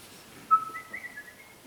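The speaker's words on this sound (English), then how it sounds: "Just whistle it." An audience at a brass quintet concert whistles a tune, thin sustained notes rising in a short melodic line, fairly quiet against a hushed room.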